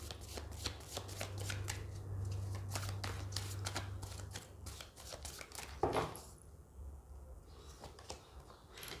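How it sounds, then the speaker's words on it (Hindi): Tarot cards are shuffled by hand close up, giving a rapid run of soft papery riffles and flicks, fairly quiet, with a brief louder rustle partway through and no speech. "अगर आपको शफलिंग नहीं देखनी है तो आप वीडियो को थोड़ा आगे बढ़ा सकते हो"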